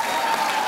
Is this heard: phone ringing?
no